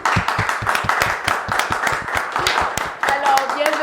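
Studio audience on a French talk show clapping to welcome a guest, brisk dense applause with individual sharp claps near and loud, then a voice starts speaking over it near the end.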